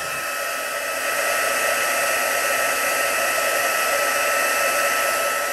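A heat tool blows steadily to melt sparkle embossing powder on a handmade card, a loud constant whooshing hiss that ramps up after a second and holds without any speech.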